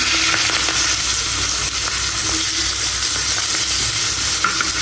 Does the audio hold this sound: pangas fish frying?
yes